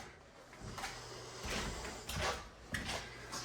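A six-panel bifold door, 36 inches wide and newly installed in a 35.5-inch opening, slides and folds open and shut with soft rolling rumbles and light bumps, quiet and close.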